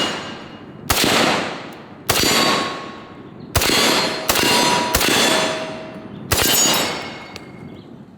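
Rifle bullets from an M1 Garand strike a steel target, giving six loud metallic clangs at irregular intervals, each ringing out and slowly decaying before the next hit, with nothing else heard.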